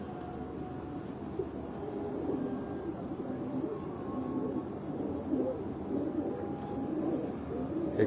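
Pigeons of Ustad Mian Nazir's famous breed coo in a low, steady murmur that runs throughout, close and continuous with a soft mass of overlapping calls.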